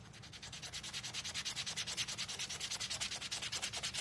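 Sandpaper rubs lightly over a craft gnome ghost in quick, regular back-and-forth strokes, a soft rhythmic scratching close by, with no talking.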